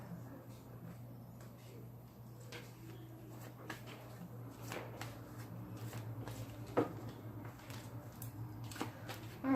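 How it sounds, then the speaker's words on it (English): Tarot cards being shuffled by hand in a quiet room: soft, faint riffling and scattered light clicks over a steady low hum. "They're asking me to shuffle like this."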